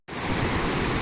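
River rapids in Kings Canyon, deep and clear, rushing in a steady broadband roar that starts abruptly and holds constant and close, with no voices.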